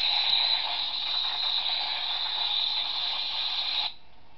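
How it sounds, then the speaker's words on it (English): A steady, buzzing crackle of a lightsaber lockup effect from a WonderForce Hitoren V3 sound font, held evenly for about four seconds before cutting off abruptly. "that was the lockup sound"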